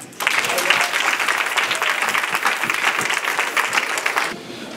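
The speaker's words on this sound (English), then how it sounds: "And you all can clap for that." Audience applauding during a testimony talk, a sudden burst of dense clapping that holds steady for about four seconds and then cuts off.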